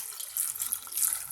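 Water poured into a cooking pot holding drumsticks (moringa pods) for a cashew drumstick masala, a steady close splashing hiss lasting about a second, with no talk.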